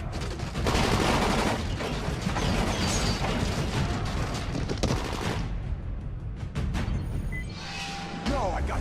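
Rapid gunfire crackles in the zombie action game Dying Light, dense bursts of shots and mechanical clatter packed close together over several seconds, with voices calling out amid the shooting.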